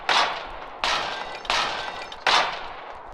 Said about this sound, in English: Everyone firing in 3